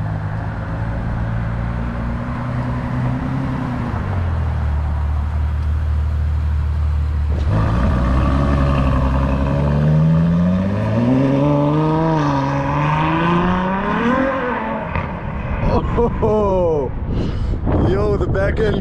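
A custom Ferrari pulls away, engine rumbling low then rising into loud, wavering acceleration as it drives off and fades, with wind noise and a voice talking over it.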